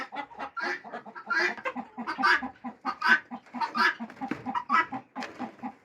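Hens clucking inside the laying boxes of a backyard chicken house, a close, continuous run of soft throaty clucks and murmurs in an uneven rhythm, rising and falling with no speech over it.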